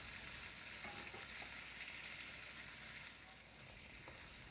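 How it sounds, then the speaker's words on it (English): Sliced smoked sausage browning in bacon grease, a soft, steady frying sizzle with a few faint pops and stirring touches, heard fairly quietly and close, with no talking. "Right into this yummy bacon grease. And we're just going to slightly brown the sausage up."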